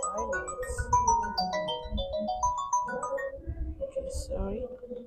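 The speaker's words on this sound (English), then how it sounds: "The phone is ringing." A phone ringtone plays as a repeating melodic tone over a steady low rumble, with a person speaking over part of it.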